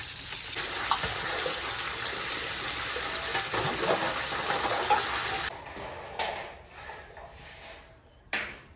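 Running tap water splashes steadily while dishes are washed in a home kitchen, a close continuous stream that cuts off partway, followed by a few short bursts of water.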